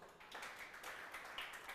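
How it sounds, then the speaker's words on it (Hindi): Scattered clapping from a small audience at a motivational talk, faint and somewhat distant, with uneven hand claps repeating in a loose rhythm through the short stretch. "तालियां बजाओ"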